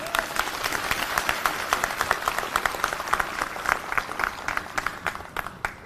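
Rally audience at a political gathering applauding loudly and steadily, dense clapping from a large crowd with sharp individual claps standing out, sustained throughout.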